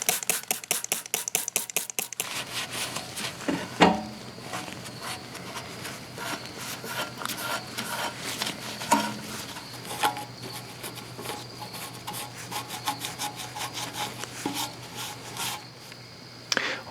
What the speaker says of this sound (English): So now I'll flip the oil pan over and wash it with dish soap